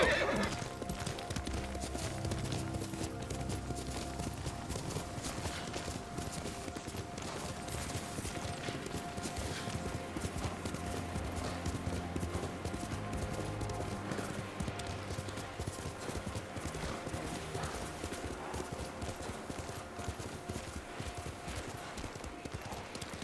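Horse hooves clip-clop at a gallop over a steady game music bed in Ghost of Tsushima, with whinnies and neighs breaking through, continuous and fairly loud for the whole stretch.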